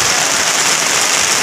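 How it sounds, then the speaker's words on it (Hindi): Heavy monsoon downpour pounding steadily over flooded streets in Rae Bareli, a dense, loud, continuous hiss of rain close by with no voices. "और ऊपर से इतनी बारिश हो रही मूसलाधार"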